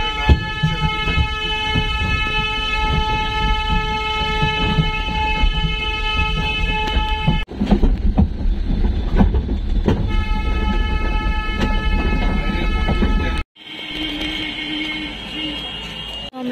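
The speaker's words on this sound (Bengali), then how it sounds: "Toy train." A toy train at Balurghat runs along close by with steady rumbling and clatter and long sustained horn toots, then stops abruptly and gives way briefly to a different, quieter scene.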